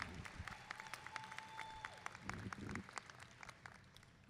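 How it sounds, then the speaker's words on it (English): Graduation audience at a high school ceremony breaks into sustained applause, dense overlapping claps from a large crowd, steady and fairly distant throughout. "If we could give them a round of applause"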